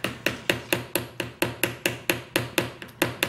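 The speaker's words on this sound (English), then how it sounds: "where they're gonna chisel apart and try to build a dinosaur." Steady, evenly spaced hammer blows, about fourteen in a row, strike a chisel into a big chunk of clay, each hit sharp and close with a short ringing decay.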